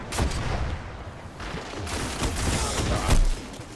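Heavy gunfire from the Talok in the video game Destiny, with repeated close, loud shots rattling out in quick bursts across the whole stretch, no talking.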